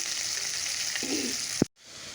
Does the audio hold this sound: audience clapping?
no